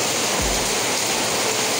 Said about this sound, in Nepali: असिना पानी परिरहेको छ पुरै, हेर्नु सक्नुहुन्छ।